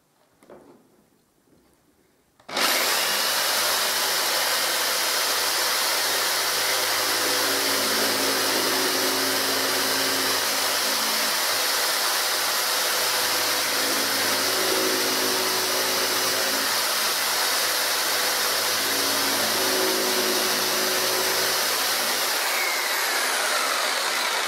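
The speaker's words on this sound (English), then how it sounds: "don't just offer this jigsaw up to the MDF and then start it off" A jigsaw cuts MDF with a loud, steady motor whine that starts abruptly after a short quiet lead-in and runs continuously at close range for about twenty seconds.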